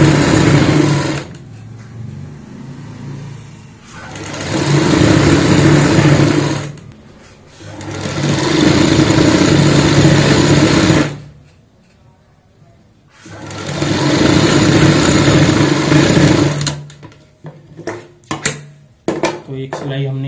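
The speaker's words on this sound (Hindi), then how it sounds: "तो एक सिलाई हमने यहाँ पे लगा ली है इस तरीके से" A sewing machine stitches jute sack strips into a doormat in three or four bursts of steady, close whirring separated by pauses, ending with scattered clicks and handling noises.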